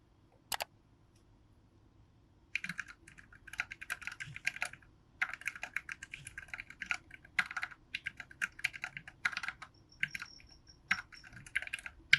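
Typing on a Quarkeys Z40 compact low-profile 40% mechanical keyboard: a steady close stream of crisp clacky keystrokes with short pauses, after a single click and brief quiet at the start.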